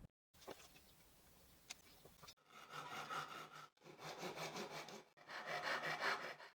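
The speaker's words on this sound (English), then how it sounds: "now I'll cut the excess with a Japanese saw" A Japanese hand saw cuts off excess wood in three steady rounds of rhythmic rasping strokes, close and clear with short breaks between them, after a quieter stretch of light handling noises at the start.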